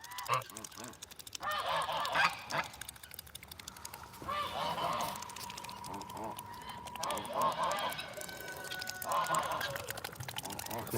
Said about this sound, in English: This is Buddy Goose right here.